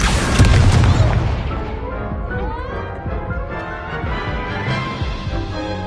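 Incendio fire spell cast in the Hogwarts Legacy video game, a loud booming burst at the start that rolls into a fading, crackling fiery tail.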